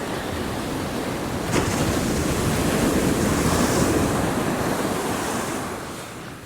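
Small ocean waves washing onto a Pacific beach on a calm day, a continuous broad surf hiss and rumble that swells slightly and then eases, with no voices.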